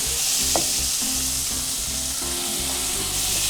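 Chopped tomatoes hit a hot pan of browned gator meat with a steady, close sizzle, joined by light stirring scrapes throughout.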